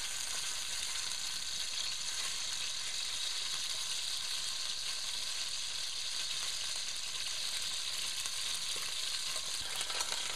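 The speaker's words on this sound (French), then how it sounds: "je vais faire cuire mon deuxième magret" A duck breast searing in a hot pan makes a steady, bright sizzle with fine crackling spatter, close and continuous without pause or voices.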